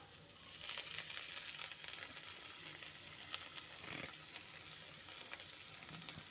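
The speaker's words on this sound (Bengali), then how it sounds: "হালকা করে একটু ভাজা ভাজা করে নেব" Chopped ginger and garlic fry in a pan over low heat, a steady soft sizzle with occasional stirring scrapes, heard close and alone.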